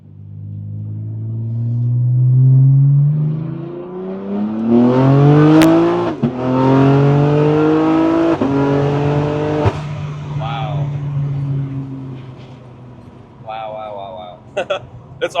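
BMW G80 M3 driven through a roundabout, engine rising in pitch with quick upshifts that drop the revs in steps, loud and close inside the car, with a voice talking over it.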